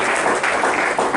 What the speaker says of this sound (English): How about a quick round of applause for these guys for giving up their night